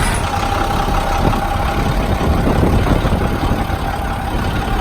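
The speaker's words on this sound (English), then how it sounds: "we'll have Mike start up the engine" A 2004 International bucket truck engine idling, running as a steady, even low rumble with no breaks, close by and alone without talk.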